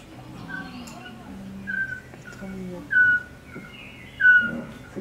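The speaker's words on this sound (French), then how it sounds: "Celui d'une petite chevêchette, une chouette pas plus haute que ça." Eurasian pygmy owl song, a tiny owl's repeated clear whistled notes, a few spaced piping calls standing out over a low, murmuring background.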